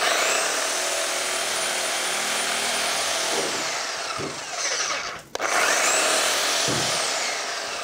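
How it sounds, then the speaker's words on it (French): A hand saw cuts through Biofib Trio fibre insulation in steady, continuous rasping strokes, briefly pausing once before resuming with the same scratchy rhythm. "Je reprends ma scie."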